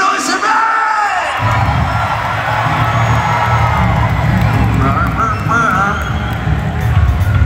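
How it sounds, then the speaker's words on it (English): A rock concert crowd cheering and whooping loudly for the guitarist, a dense continuous roar of many voices with shouts rising above it, close and sustained for the whole stretch, with a voice calling out over it. "Make some noise for Barry!"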